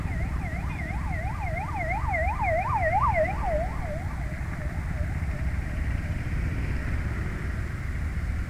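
An ambulance siren wails in repeated rising and falling sweeps over a constant rumble of road traffic, fading after a few seconds.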